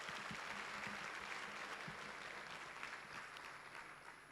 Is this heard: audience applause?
yes